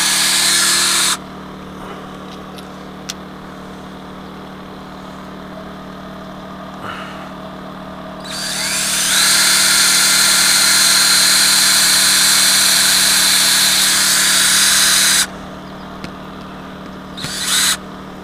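A power drill drives all-purpose screws into aluminum on a battery compartment: a steady, loud whirring burst of about seven seconds stands out from quiet background noise, then a brief faint buzz follows near the end.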